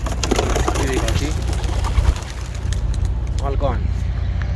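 Racing homer pigeons are released and fly off, with bursts of wing flapping and some soft cooing close by, and a person talking over the birds.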